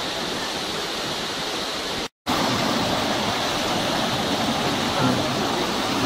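Pa La-u waterfall roars as a dense, steady rush of falling water heard close by, broken only by a momentary cut in the sound partway through.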